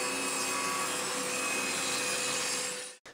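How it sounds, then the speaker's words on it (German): A wooden board is cut by saw in one continuous, loud rasping stroke sequence that runs steadily for about three seconds, then stops abruptly with a brief clatter. "das werden wir uns dann gleich mal zusägen."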